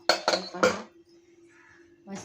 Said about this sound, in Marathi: कुकर गार झालेला आहे आता आपण हे काढून घेऊया